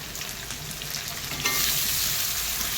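Sliced onion and bay leaves hit hot oil, a steady close sizzle that swells louder about halfway through as fresh ingredients land in the pan, with broadband frying hiss continuing to the end.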